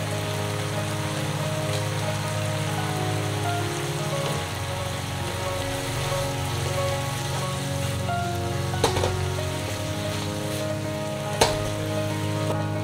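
Green peppers, corn and sauce sizzle steadily in a frying pan for Cuban-style pork fajitas, a constant dense crackle with a low hum beneath and a couple of sharp clinks, no voices.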